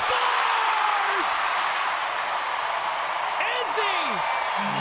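A hockey arena crowd at a Vancouver Goldeneyes vs Toronto Sceptres game roars after a goal, a loud, sustained wash of cheering with scattered whistles and shouts that holds steady throughout.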